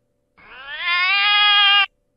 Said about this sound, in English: What about a meow? Cat yell.